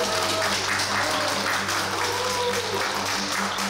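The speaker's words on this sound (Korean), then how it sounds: "큰 박수로." Applause at a book donation ceremony for comedians rolls on steadily at moderate volume, a thick wash of clapping with voices faintly audible underneath.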